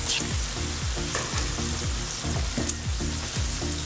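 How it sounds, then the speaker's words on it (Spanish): Mushrooms sizzle and fry in a tomato sauce for spaghetti boscaiola, with repeated stirring scrapes in a steady rhythm and close, constant crackling throughout. "Vamos a agregar los champiñones y freír ligeramente."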